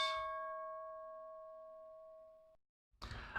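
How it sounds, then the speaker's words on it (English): A stock market closing bell rings out as a single struck tone that sustains and slowly decays for about two and a half seconds before cutting off, followed by a brief burst of noise. "there's the bell, 2 seconds left, and there it goes"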